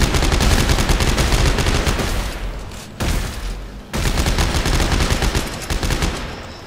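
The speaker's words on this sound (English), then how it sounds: "the plasma cutter is still the best gun in the game." Rapid plasma cutter gunfire from Dead Space 3, sustained bursts of loud repeated shots with brief pauses between volleys, close and dominant.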